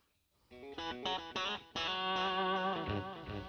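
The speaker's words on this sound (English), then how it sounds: "With a 63 reverb pedal." An electric guitar played through a reverb pedal in a classic country style strums a few chords and then rings out, the notes sustained and washed with reverb, close and alone.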